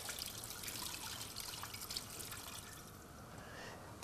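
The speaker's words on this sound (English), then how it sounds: "in there, 4 cups of water" Four cups of water being poured into a pot over high heat while soup is cooked, a steady close splashing trickle that continues throughout with no talking.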